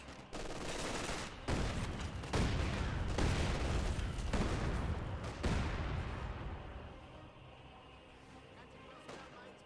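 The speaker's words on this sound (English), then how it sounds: "Do now have the heavy mortar barrage being brought in, forcing him back." A heavy mortar barrage in Company of Heroes 2 pounds away as loud, overlapping blasts and gunfire crackle in a steady salvo, then tapers off into a fading rumble, with a commentator talking over the shelling.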